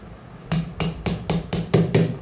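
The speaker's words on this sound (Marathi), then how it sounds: "इथं घरातच असं तोडून घ्यायचं" Raw mangoes chopped into pieces at home for pickle, heard as a quick, even run of about seven sharp, close chopping thuds roughly a quarter second apart, with no talking.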